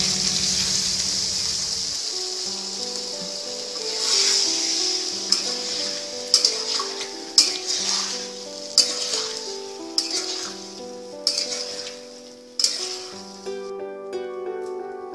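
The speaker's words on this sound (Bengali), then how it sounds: "সমস্ত মশলাটা ভালো করে আলুর সঙ্গে মিক্সড হয়ে গেছে, এবার আমি খুব সামান্য মতো জল অ্যাড করবো।" Spiced potatoes frying for a vegetarian aloo dum get a splash of water, a brief loud sizzle burst, then steady stirring with repeated spoon scrapes against the pan over a soft frying hiss and faint background music.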